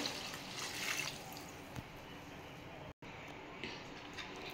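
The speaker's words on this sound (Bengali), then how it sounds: "আমি এবার একটু জল ঢেলে দেবো।" Water poured into a pan of simmering Bengali bata fish curry with ridge gourd, potato, eggplant and mango, giving a steady close splashing hiss that breaks off briefly near the end.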